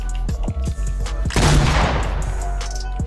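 Shotgun gunfire in the Fortnite video game: several sharp shots crack in quick succession, then a louder burst of overlapping fire, close and punchy.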